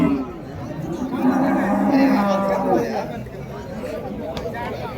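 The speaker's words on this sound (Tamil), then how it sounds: "இதுவும் ஒரு காளை ஒன்று எடுத்துன்னு வந்திருக்காங்க," A Western breed bull at an open cattle market, a low drawn-out moo rising over steady crowd chatter and nearby talk, close and fairly loud.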